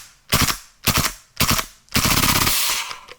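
An airsoft rifle firing its 2-round burst in cold weather, three loud separate bursts followed by a longer sustained volley, close up with no talking.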